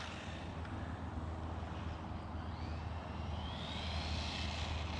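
A 1/16 scale brushless Hosim RC car running on a 3S battery gives a steady, loud motor whine with a rising high pitch as it speeds up, continuous throughout with no talking.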